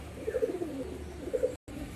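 Soft, low pigeon coos repeat twice in a quiet setting on a rainy day, faint and nearby, with a brief dropout near the end.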